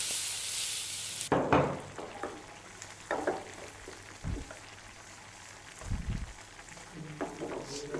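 Boiled mixed vegetables hit a pan of masala and fry quietly, with a soft sizzle broken by occasional scraping stirs and clatters, and a voice talking faintly at times.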